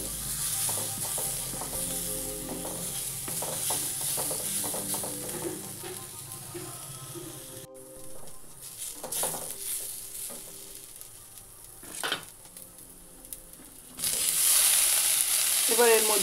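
Onion and grated coconut fry in a pan, a steady close sizzle broken by scraping stirs, with a brief drop around the middle and louder hissing near the end.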